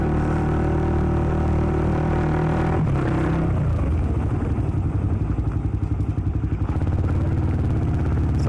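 Motorcycle engine fitted with a DB Killer exhaust, loud and close, idling with a dense low rumble before shifting to a throbbing, pulsing beat partway through that continues to the end.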